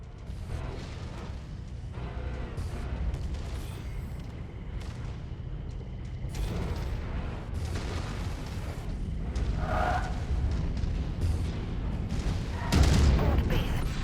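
Mech weapons fire in the MechWarrior 5: Mercenaries video game, with heavy booms and crackling bursts over a dense, rumbling battle din. The barrage runs continuously and peaks in a loud blast near the end.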